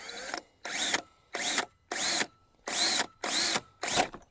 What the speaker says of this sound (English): So if I drill right there, I should be fine.